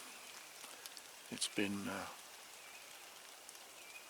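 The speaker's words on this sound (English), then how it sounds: "Well, it's still drizzling. Just a steady light drizzle." Steady light drizzle falls outdoors in the early morning during a spring turkey hunt, a soft continuous hiss of rain that runs throughout, with a person briefly talking partway through.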